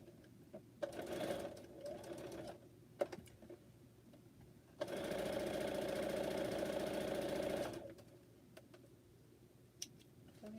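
Sewing machine stitching chained fabric masks, short bursts of stitching with clicks in between, then a sustained steady run of several seconds before stopping, close and moderately loud.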